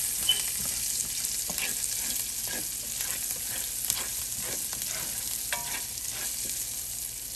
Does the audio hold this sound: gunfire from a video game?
no